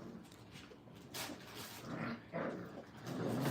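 Brittany puppies at a kennel make faint, soft whimpering and low growling sounds close by, with a quiet background.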